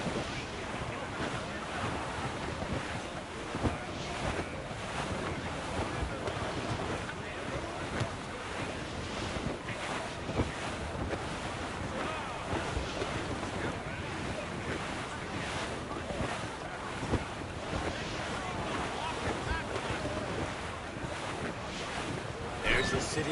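A sea squall from a sailing video game rushes over the deck: heavy wind roar and crashing surf in a dense, unbroken wash that holds loud for the whole stretch, with no clear talk above it.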